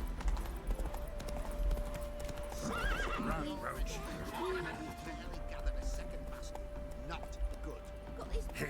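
Roach, the horse in the Witcher 3, gallops with steady clip-clop hoofbeats and whinnies over continuous game ambience, a sustained tone and low rumble running throughout.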